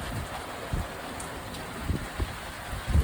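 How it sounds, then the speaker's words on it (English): Light rain falls in Wonder Valley, California, heard as faint scattered drips and taps over a soft, steady outdoor wash with a little wind. "Rain is here. Rain dripping off the brim of my hat."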